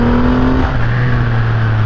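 A car accelerating hard in second gear up a hill from about 50 km/h, engine drone loud and close with steady rising harmonics throughout, no talk.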